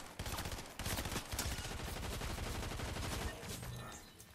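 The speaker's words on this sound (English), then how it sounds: "I'm shooting on one of them now." Gunfire in the video game Fortnite, rapid bursts of automatic shots crackling loud and close in a dense continuous stream, easing off near the end.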